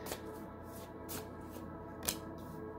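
Tarot cards being shuffled by hand give soft, repeated riffling swishes with one sharper snap, close up over a steady background hum, with no talking.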